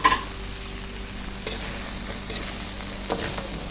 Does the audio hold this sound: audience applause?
no